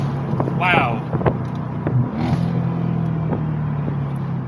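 A Mercedes SLK55 AMG R172 with its exhaust valve actuator bypassed gives a steady, loud engine drone and exhaust rumble during a drive, with brief rising revs and crackles near the start.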